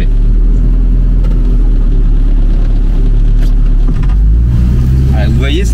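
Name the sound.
car engine revving while driving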